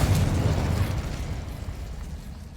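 A Confringo fire spell explodes in the Hogwarts Legacy video game, a loud, near burst with a deep boom that decays into a rumbling tail over a couple of seconds.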